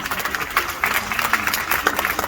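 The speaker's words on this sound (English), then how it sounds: "Please, a round of applause for him." Audience applause at the Badamasi movie premiere at the O2 in Greenwich, London, a steady patter of clapping from a crowd that holds throughout at moderate loudness.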